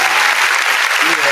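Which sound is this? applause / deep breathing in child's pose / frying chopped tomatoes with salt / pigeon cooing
applause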